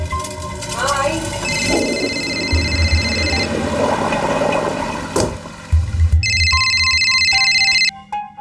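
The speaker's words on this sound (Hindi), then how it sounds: "देखना तेरा फोन बज रहा है।" A phone rings with bursts of a bright electronic ringtone over a busy, noisy background, then rings again more loudly toward the end.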